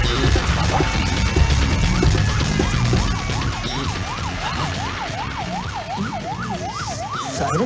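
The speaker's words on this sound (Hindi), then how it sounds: "सायरन की आवाज है ना" A police siren wails in a rapid rising-and-falling pattern in a Pakistani film scene, loud and close over a rumbling background, getting faster and more prominent toward the end.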